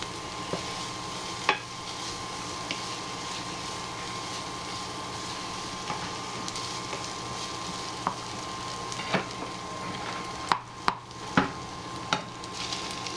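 Garlic and onion filling for minced beef savoury rolls fries in a pan, a soft steady sizzle broken by occasional spoon scrapes and taps, fairly quiet and without talking.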